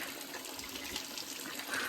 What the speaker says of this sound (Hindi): नेचुरल पानी 24 घंटे आने वाला।